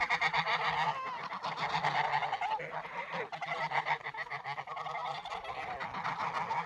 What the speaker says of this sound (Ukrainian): Ось іде перша гуска, не гусак. І ось є за нею построїлись в чергу.